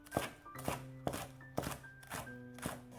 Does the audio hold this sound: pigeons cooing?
no